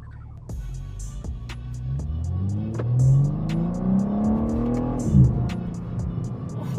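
A 2022 BMW M4 Competition xDrive engine accelerates hard from inside the car, its note rising steadily through the revs with a brief shift and a renewed climb near the end, loud and continuous with no talking.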